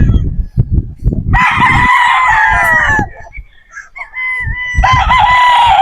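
A straight comb gamefowl rooster crows loudly and close by, two long strained calls separated by a pause, while someone talks over the rooster between and during the crows.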